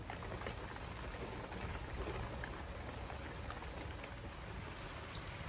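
Steady evening rain pours down without pause, a dense even hiss of drops on surfaces at a constant, moderate level with no voices.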